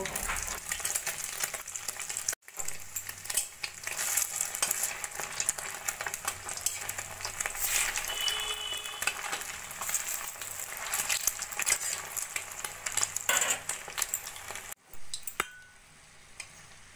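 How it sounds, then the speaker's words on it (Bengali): Oil sizzles and crackles steadily in a pan for a long stretch as mini rolls deep-fry, with occasional stirring and clinks of a utensil, no talking. "একইভাবে 3-4টে করে ছেড়ে আমি ভেজে নেব।"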